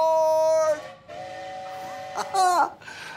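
A toy-like train sound effect for a children's Christmas story segment, with whistle-like tonal blasts and a rising tooting burst, loud and close, standing alone without talk.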